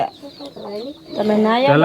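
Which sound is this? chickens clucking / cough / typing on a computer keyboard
chickens clucking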